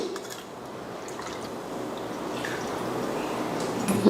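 A steady stream of water pours and splashes into a pan of mutton curry, a continuous wet rushing that grows slightly louder toward the end.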